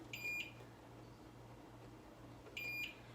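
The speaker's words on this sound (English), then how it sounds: "my timer again." A kitchen timer gives two short bursts of rapid high beeps, one at the start and one near the end, separated by quiet room noise with a low steady hum.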